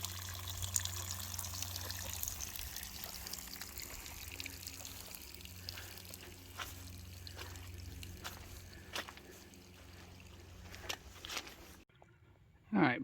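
A natural stream trickles beside a hiking trail among bushes, a soft continuous burble of running water with a low hum underneath and a voice over part of it, cutting to near silence at the end.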